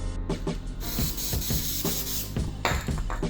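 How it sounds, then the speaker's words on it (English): Aerosol spray paint hissing in short bursts onto a paper towel while yellow brake calipers are painted on a Lincoln Town Car, with clicks and handling noises between sprays, close up. "I'm gonna spray paint on it."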